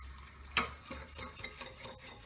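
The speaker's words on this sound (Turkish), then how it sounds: "limon tuzu ve tuzumuzu eritiyoruz." A spoon stirs salt and citric acid into water in a bowl, starting with one sharp clink against the side, then soft rhythmic swishing and light scraping, quiet and close.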